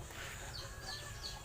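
Backyard chickens clucking in short soft bursts over a steady low rumble of background noise, with no talking.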